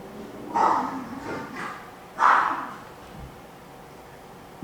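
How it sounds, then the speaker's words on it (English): A pet dog nearby gives two sharp, aggressive barks about a second and a half apart, with a short low rumble between them, in an otherwise quiet room. "That's my dog"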